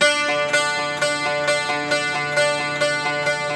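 A dulcimer strummed hard with a stiff pick in a steady rhythm, each crisp pick attack ringing into bright sustained strings, about two strums per second.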